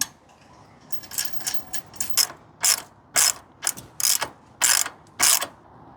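Ratcheting clicks while tightening a nylock nut over washers and a strap on a Moto Guzzi Le Mans 3 motorcycle: about a dozen sharp, close metallic bursts in an uneven rhythm, with quiet gaps between.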